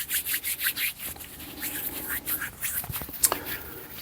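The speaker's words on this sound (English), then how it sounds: "And then get the brush and remove any residue powder." A brush sweeps leftover acrylic powder off fingernails in soft, rhythmic rubbing strokes, close and quiet, followed by a few light taps.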